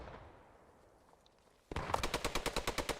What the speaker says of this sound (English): just heard the machine guns behind him